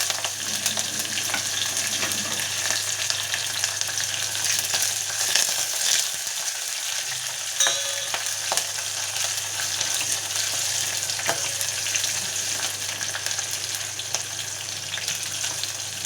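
Green chillies and curry leaves fry in hot oil with a loud, continuous crackling sizzle that holds steady throughout, with occasional light stirring scrapes and no voices.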